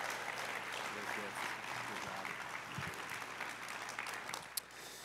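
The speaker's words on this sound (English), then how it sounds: "Round of applause." Congregation applause at a church service after a children's choir, steady broadband clapping lasting several seconds with a faint voice underneath and a sharp clap near the end.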